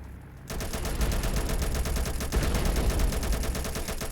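In a Roblox war game, rapid automatic gunfire bursts in after a brief quiet moment, a dense, continuous rattle of shots that keeps going loud to the end.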